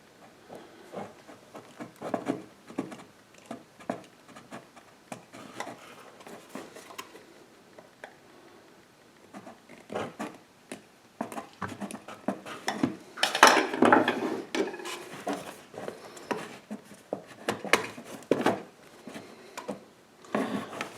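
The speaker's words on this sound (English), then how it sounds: "let's mark it now. I've got an awl." An awl marks and starts small pilot holes in a panel for an hour meter on a Honda snowblower, giving a series of light metallic scrapes, taps and clicks up close, denser in the middle of the stretch, with no talking.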